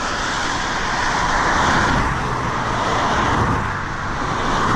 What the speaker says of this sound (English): Where are all these cars coming from today?